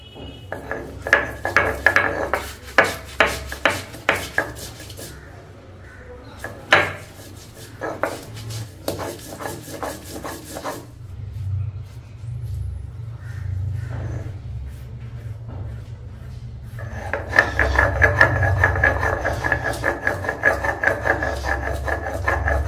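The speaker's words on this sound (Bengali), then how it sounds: "শিলে বাটা মশলার ব্যাপারই আলাদা।" Cumin and ginger ground by hand on a stone slab (shil-nora), rhythmic rasping strokes of stone on stone in bursts, with pauses between, close and fairly loud.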